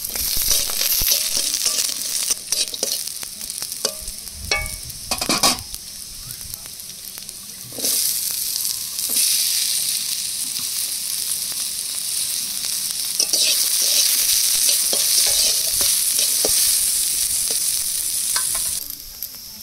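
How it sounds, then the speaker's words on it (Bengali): Onion and garlic frying together in a pan for a traditional Bengali crab paste dish, a steady loud sizzle with scraping stir strokes and occasional clatter, continuous throughout. "পেঁয়াজ আর রসুন একসাথে ভেজে নেব।"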